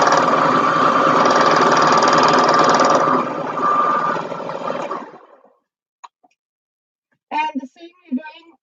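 A sewing machine stitches fleece fabric in a fast, steady whir for about five seconds, then winds down and stops, followed by a couple of soft clicks and a short stretch of talking.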